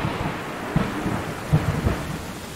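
Steady rain pours down in the Stray video game while low rumbles of thunder swell and recede beneath it, with no voices present.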